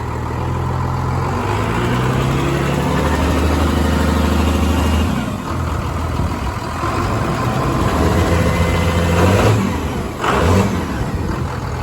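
A Ford F350 diesel truck with a 24-valve P-pump engine runs loud and steady after starting, rising and falling through several revs with a low rumbling idle in between.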